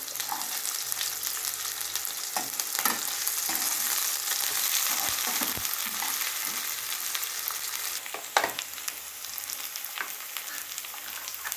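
Garlic frying in a pan for a potato dish gives a steady, close sizzle with crackling and a few sharp pops and stirring scrapes, heard alone without talk.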